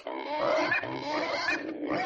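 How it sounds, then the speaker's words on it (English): A small feral super pig on a farm lets out a continuous, fairly close squeal with a brief break near the end. "That sounds like a little super pig."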